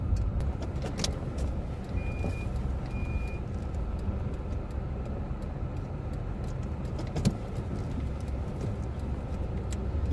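Car interior rumble continues steadily as the vehicle slows and eases over to the roadside, with a couple of soft clicks and no talking.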